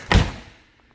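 A single dull thunk as the front personnel door of a food processing facility swings open, close and moderately loud, then a short fading tail into near quiet.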